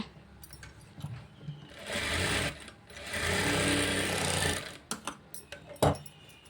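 An electric sewing machine stitches a blouse in two loud running bursts of rapid needle clatter, separated by a short pause and followed by scattered clicks and handling noises.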